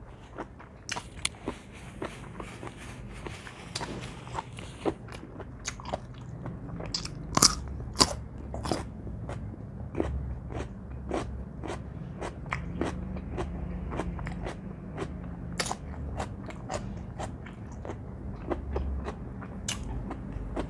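Grilled squid being chewed up close, with repeated sharp crunchy bites in an irregular rhythm over about twenty seconds, fairly quiet and with no talking.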